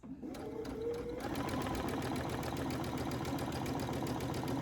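A Brother Essence VM5200 sewing machine stitches a quilting seam with a steady, even mechanical whir that starts about a second in and keeps up close and constant.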